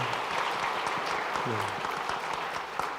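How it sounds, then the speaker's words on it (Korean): A church congregation at Sunday worship claps to congratulate a newly married couple, a steady, moderately loud patter of many hands with voices murmuring beneath. "우리가 함께 박수로 축하하도록 하겠습니다"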